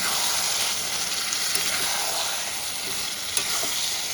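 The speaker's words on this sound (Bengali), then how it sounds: "এবার আমি ম্যারিনেট করা চিকেনটাও দিয়ে দেবো। দই দিয়ে ম্যারিনেট করেছি," Yogurt-marinated chicken hits a hot pan for chicken patiala, raising a loud, steady sizzle and hiss with occasional stirring clinks, close and continuous, with no talking.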